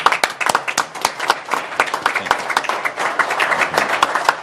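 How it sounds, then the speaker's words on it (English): A small group claps at a board meeting, a brief round of sharp, uneven individual claps that stays fairly close and steady with no talking over it. "you deserve a round of applause"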